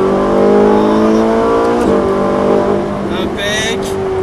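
A Ferrari 458 Italia accelerating on a race circuit, the engine note rising steadily in loud close in-car harmonics, dipping briefly with a gear change, then climbing again.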